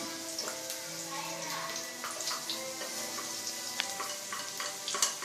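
Garlic frying in a pan during a home lunch cook in the Philippines, a steady soft sizzle with light crackles and occasional utensil clicks, close and continuous.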